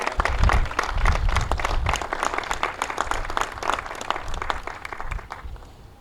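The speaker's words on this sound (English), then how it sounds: "let's start with a round of applause for what they've done to this community" A crowd at the Vapor Stone Rail Systems ribbon cutting applauds, a dense burst of many hands clapping that holds for several seconds and then tapers off toward the end.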